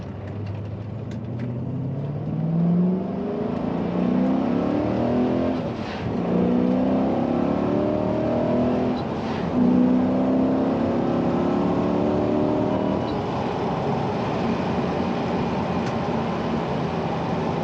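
A 2003 BMW E39 M5 in Imola red on new Hamann HM2 wheels runs steadily, its engine note rising and falling through gear changes under continuous road and wind roar, close and loud with no talking.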